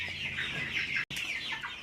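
Chickens cluck and murmur close by, a busy run of soft clucks and higher squawky notes with a brief cut partway through.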